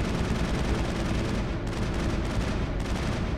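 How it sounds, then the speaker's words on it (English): Weapon fire aimed at a huge ship in Mass Effect: a continuous, dense roar of rapid shooting and rumbling blasts, steady and loud from start to end with no voices. "Whatever it is, I'm shooting at it."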